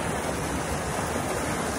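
Small creek running close to normal level, a steady, full rushing of water close by, broadband and unchanging for the short span with no voices.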